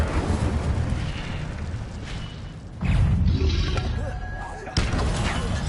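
An Incendio fire spell cast in Hogwarts Legacy on PS5, heard as fiery whooshing bursts: a rumbling eruption swells mid-clip and another sharp blast follows, over a steady game background.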